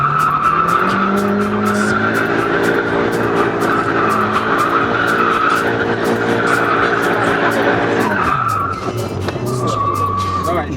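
Car drifting at a drifting master class, engine revving hard with sustained, screeching tire squeal and skidding for several seconds, then the engine note drops and shifts as the slide ends, close and loud.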